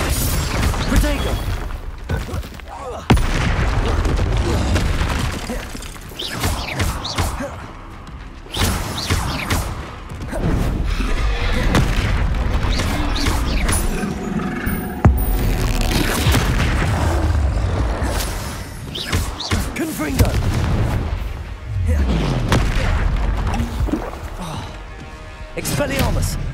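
Confringo blasting spells in Hogwarts Legacy during a troll fight, a dense run of loud booms, crashes and shattering impacts over game music and effects, with character voices talking between blasts.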